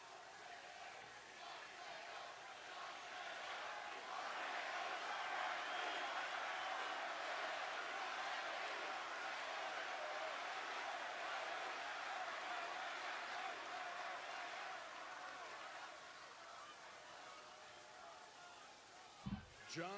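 Crowd at a Friday Night SmackDown wrestling event in a packed arena, a steady, loud roar of cheering and noise lasting throughout, swelling in the middle and fading near the end.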